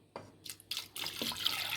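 Water poured from a cup into a cooking pot while making keerai kootu, a Tamil spinach and lentil dish; a short splashing pour, close and fairly quiet, with no talk.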